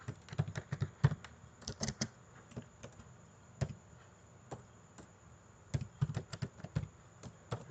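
Close, light clicks of a computer keyboard while someone types a MySQL query, in short irregular bursts separated by pauses, with faint steady background hum and no voices.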